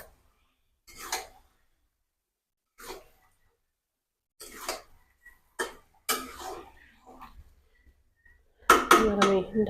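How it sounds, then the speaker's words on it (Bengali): Potatoes are dropped into spiced chicken in a cooking pot, giving a few sharp clinks and clatters spaced apart in a quiet room, with a louder cluster of knocks at the end. "আমি আলুগুলো দিয়ে দেবো একই সাথে।"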